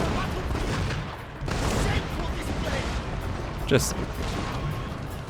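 Musket volleys crackle in a Warriors of the Shogun video game battle, a dense rolling roar of massed gunfire with swells and one sharper report, heard under a voice.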